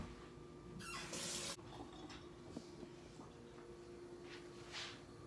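A burst of running water from a kitchen sink tap as food is rinsed, loud for about a second then cutting off, followed by a few light clinks and faint splashes against a steady low room hum.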